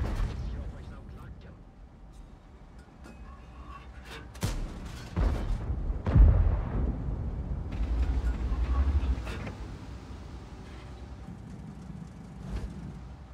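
Tanks fire in a video game, with a few heavy booming cannon shots and rumbling blasts over mechanical clanks and a low battle din, while people talk at times.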